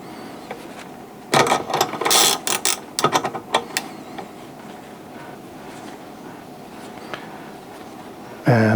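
A tool drives a bushing into the lower control arm of a Saab 9000, heard as bursts of rapid ratcheting clicks and mechanical clatter separated by quieter gaps, close and fairly loud, ending with a thud.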